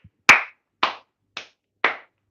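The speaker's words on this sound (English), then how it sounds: "Another round of applause for this guy." Four sharp, separate claps spaced about half a second apart, loud and close with silence between them, more like a few deliberate hand claps than a crowd's applause.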